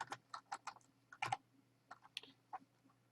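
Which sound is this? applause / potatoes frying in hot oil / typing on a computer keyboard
typing on a computer keyboard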